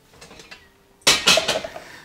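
A cooking pot is set down on a stove with a sudden loud metallic clank, followed by a few rattling knocks as it settles, close up after a brief quiet lead-in.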